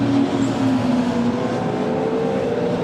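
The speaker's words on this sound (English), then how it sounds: "This is the BRE automotive car." Dave Cowan's standard-looking, wingless BRE Automotive race car roars past at Brands Hatch during a BARC race meeting, its engine loud and sustained for a few seconds as it goes by.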